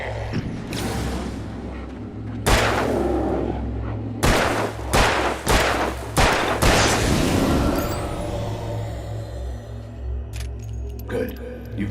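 Several sharp gunshots fired in the video game Alan Wake ring out amid mechanical creaks and a low droning score, the shots coming in a loose cluster of loud bursts with a fading tail.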